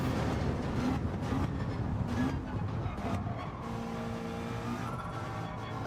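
A GR4 race car circuits a track in a racing video game, its engine droning steadily and close throughout with shifting pitch, a faint skid-like hiss mixed in.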